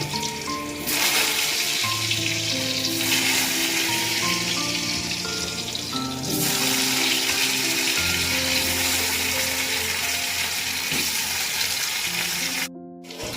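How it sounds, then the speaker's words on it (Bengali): Sliced potatoes sizzle steadily in hot oil for aloo jhinga dal, a loud continuous frying hiss that holds throughout, briefly cutting out near the end, with a sustained background tone. "এখন আমি আলুগুলোকে ভেজে নেব।"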